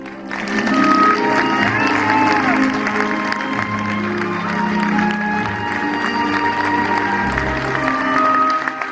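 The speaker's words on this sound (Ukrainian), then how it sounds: "Давайте її ще раз поаплодуємо" An audience at an event in Kyiv applauds after a girl reads her own poem. Sustained clapping from a sizeable crowd goes on throughout, with voices and some cheering mixed in underneath.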